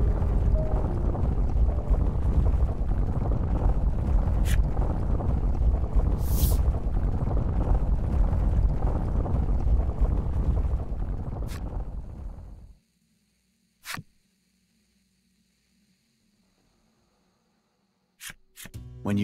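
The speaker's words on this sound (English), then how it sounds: "raging voice transforms into a tidal wave that rushes toward you" A tidal wave rushes in during a Voice of Cards: The Forsaken Maiden scene: a loud, steady roar of churning water for about twelve seconds, which cuts off abruptly into near silence broken by a few brief thumps.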